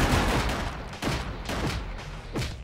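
Tommy gun fire in the video game Gangland, repeated bursts of gunfire sounding in uneven clusters, fairly loud and alone without voices.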